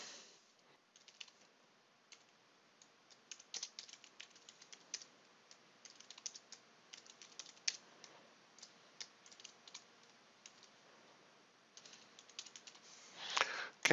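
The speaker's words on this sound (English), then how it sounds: "if I wanted to add a new contact to the database, then maybe we could just type in here Sam 21." Quiet, fairly close keystrokes on a computer keyboard as a contact name is typed, irregular clicks in short runs with a brief busier flurry near the end, no talking.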